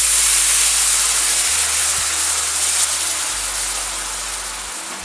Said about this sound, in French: on verse la sauce